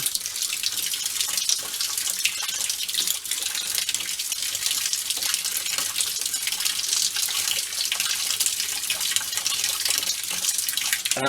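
Steady hissing rush of well water running from a tap in Pensacola, Florida, during a tankless water heater installation, continuous and close with no talk.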